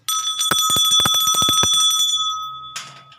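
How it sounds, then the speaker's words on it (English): A bell rings out in a stage production of Macbeth, a sustained bright metallic tone with a rapid series of struck strokes that ring on and decay, followed by a faint rustle near the end. "The bell invites me."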